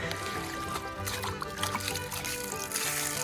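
Steady dense rain pouring and pattering, a constant wash of drops with no pauses.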